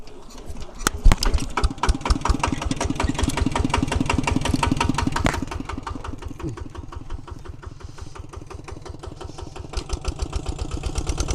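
A tractor on rubber wheels plows hard soil while furrowing a vegetable plot, its engine chugging in a steady rapid rhythm, loud and close, with no talk over it.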